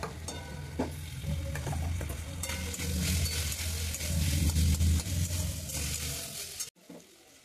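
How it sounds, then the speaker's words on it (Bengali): Ginger and green chili paste frying in a pan, a steady close sizzle with stirring and occasional clinks that drops out near the end. "একটু ভাজা ভাজা হলে এর মধ্যে আগে থেকে বেটে রাখা আদা এবং কাঁচা লঙ্কাটা দিয়ে দিলাম"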